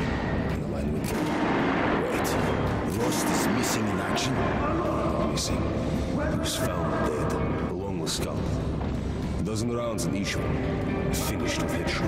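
Gunshots and heavy booming fire in the video game Metro: Last Light Redux sound almost continuously at close range, with a voice talking over the combat.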